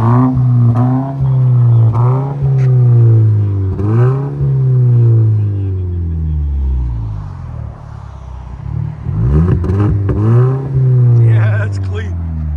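A 2019 Volvo S60 T6 2.0L turbo with a muffler delete and Vibrant exhaust revs loudly and close, its engine note rising and falling through several rev sweeps, with people talking over it.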